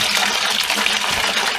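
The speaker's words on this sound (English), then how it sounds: "We're going to take a gallon of warm water. I'll put it in a bucket and mix it." Warm water poured into a bucket for feeding bees, a steady close gushing splash running throughout without a break.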